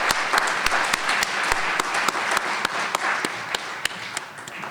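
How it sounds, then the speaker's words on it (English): An audience at a mayor's arts awards applauds a choir, a steady full wash of many hands clapping with a few sharp near claps standing out throughout. "Ladies and gentlemen, one more round of applause."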